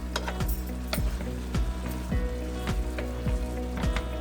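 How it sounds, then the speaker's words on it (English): A thickening picadillo sauce with beef and cumin gets stirred in a pan, regular scraping strokes about every half second over a low bubbling sizzle, close by and without speech. "And we're just gonna mix this up."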